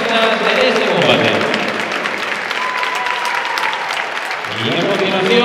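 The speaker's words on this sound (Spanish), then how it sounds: "El aplauso también para Jorge Fernández, protagonista de este combate." Crowd applause after an amateur boxing bout in Gijón: loud, sustained clapping that fills the hall for about five seconds, with a voice faintly underneath.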